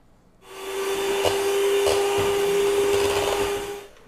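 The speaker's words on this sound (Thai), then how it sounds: "เนยปั่นให้สีเข้ากันค่ะ" An electric mixer whirs steadily while blending butter for homemade strawberry ice cream, a loud continuous motor drone with a few faint bumps, starting after a brief quiet moment and running to the end.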